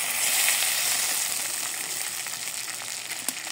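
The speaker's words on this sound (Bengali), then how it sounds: "মাছগুলো হালকা করে ভেজে নিলাম" Pangas fish pieces fry lightly in hot oil, giving a steady, close sizzle with crackling spits that runs evenly throughout with no talk.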